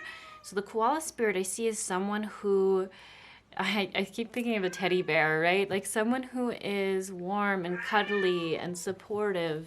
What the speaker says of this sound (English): so if you hear a cat sort of yelling in the background